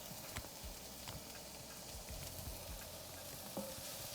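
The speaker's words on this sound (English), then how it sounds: "Okay, give that a stir. Now we're frying." Shrimp and soba noodle stir fry frying in a pan gives off a steady, close sizzle, broken by scattered clicks and knocks from stirring.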